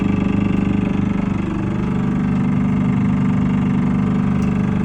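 A Lovol 504 tractor engine idles and runs steadily nearby, a loud low chugging drone that holds constant throughout.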